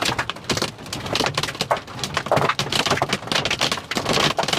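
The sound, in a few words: large hail falling during a supercell storm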